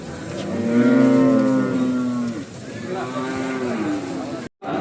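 A Hyderabad buffalo at a cattle market gives a long, loud, deep moo followed by a second lower call, with faint background noise.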